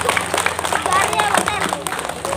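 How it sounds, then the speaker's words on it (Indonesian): An audience at an Indonesian religious lecture claps for Hadi, a dense patter of hands mixed with cheering voices and crowd chatter throughout. "Tepuk tangan yang meriah buat Hadi"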